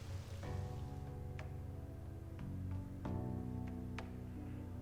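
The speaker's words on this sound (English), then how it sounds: "Rain, huh?" Steady rain falls in the video game Persona 5 Royal, a continuous soft patter under a sustained musical tone, with a few faint clicks scattered through.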